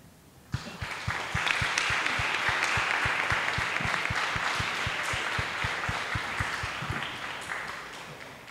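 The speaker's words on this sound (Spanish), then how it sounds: "Espero que hayas podido escuchar los aplausos" Audience applause at an academic panel on Latin American integration begins abruptly and swells into sustained, full clapping, with a steady rhythmic thump underneath, before slowly fading.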